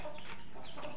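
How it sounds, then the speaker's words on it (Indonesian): Chicken clucking up close, a few short squawky calls spread across a brief one-second stretch with no talk over them. "Ayam ini."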